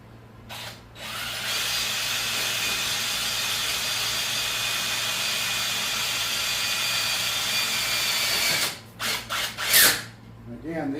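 A power drill drives self-tapping screws that bore their own holes at each connection. The motor whines steadily for about eight seconds, then ends in several short, sharp bursts as the screws seat.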